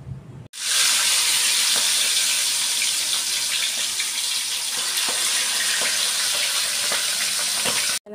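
Salted and seasoned bangus (milkfish) fries in a pan with a loud, steady, hissing sizzle that starts abruptly and carries on unbroken for several seconds, with no voices.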